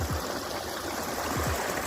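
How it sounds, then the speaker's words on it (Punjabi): Irrigation water rushes fast through a channel in a wheat field, a steady close broadband gush like a small river with no pauses. "ਇਧਰੋਂ ਪਾਣੀ ਦੇਖੋ ਨਦੀ ਇੱਕ ਤਰ੍ਹਾਂ ਹੀ ਨਦੀ ਆ ਕਾਫੀ ਨਦੀ ਵਾਂਗੂ ਫਾਸਟ ਜਾ ਰਿਹਾ ਪਾਣੀ"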